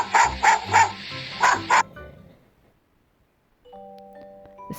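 A dog barks five times in quick succession, loud and close, then falls silent before soft musical tones begin.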